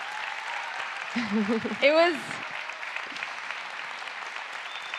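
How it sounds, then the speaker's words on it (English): Audience applause at a girls' sports leadership talk, a steady wash of clapping throughout with a short spoken exclamation rising above it partway through. "please, round of applause."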